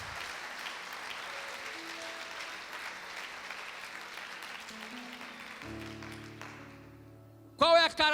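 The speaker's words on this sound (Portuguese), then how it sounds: "Aplauda o Senhor." A church congregation applauds in a steady, moderate clatter that fades out toward the end, giving way to sustained keyboard or organ tones and a brief sharp burst at the close.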